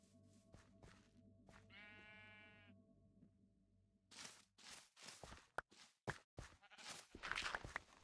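A sheep in the video game Minecraft lets out a single wavering bleat amid quiet clicks, followed by a stretch of scuffing footsteps and busy game noise.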